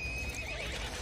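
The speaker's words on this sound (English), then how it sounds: "Four horses." Horses whinny over a rush of galloping hooves in an animated film, a dense, continuous wash of sound with a high neigh riding on top.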